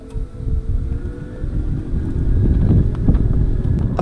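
MINI Cooper S Electric hatch on the move, a steady low road and wind rumble inside the car with only a very faint electric motor whine riding on top, continuous and quiet throughout.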